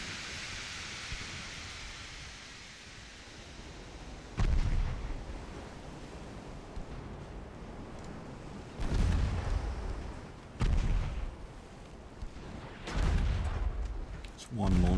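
Naval guns firing on a battleship in an 1899-era Austrian naval campaign game, several heavy booming salvos spaced a few seconds apart over a steady hiss of sea ambience.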